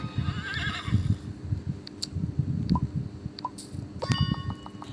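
A horse in a video game whinnies several times over a steady low rumble, with short chiming tones from the game mixed in and no talk.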